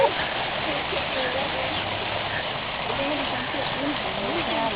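A waterfall rushes in a steady, loud wash of falling water while a person talks over it.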